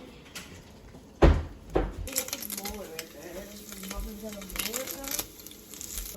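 Five eggs for scrambled eggs hit a hot pan with a sharp clatter, then a soft, steady sizzle runs underneath while people talk over it.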